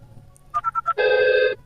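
Phone line tones on a VoIP router call: a few short beeps followed by a longer steady ringback tone, clear and close, with no talk.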